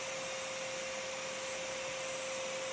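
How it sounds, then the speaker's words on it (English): A vacuum drones steadily as it sucks yellow jackets out of a ground nest, a constant whining hum with a single sustained tone, even and unbroken, with no voices. "they get sucked right into the vacuum"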